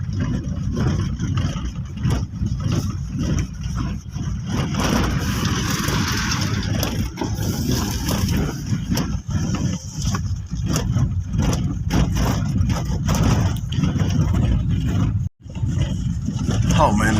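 Car engine droning steadily through an evening drive on a rough road in Kenya, loud and continuous with road rumble, someone talking over it throughout.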